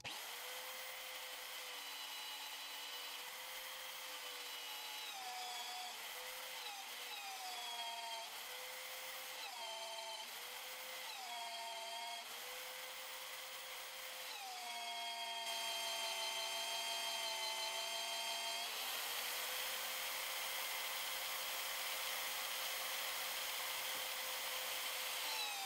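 Power hole saw driving into a steel train track, the motor whining loudly and steadily with its pitch sagging and recovering as it bogs under load, running continuously without any talk.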